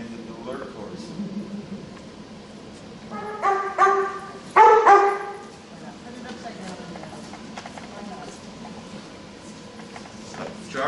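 At an indoor dog agility event, a dog gives a few sharp barks in two quick bursts midway through, heard over a steady crowd murmur and scattered talking nearby.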